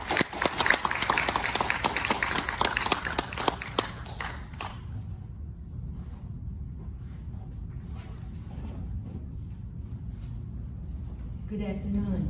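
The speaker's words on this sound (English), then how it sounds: "A big round of applause for Esther Kim." An audience claps steadily for speaker Esther Kim at a 75th-anniversary commemoration of the start of the Korean War. The dense applause fills the first four seconds and then fades, leaving a quieter room with faint murmurs and a few scattered claps.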